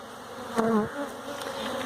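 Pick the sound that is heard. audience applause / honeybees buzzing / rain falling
honeybees buzzing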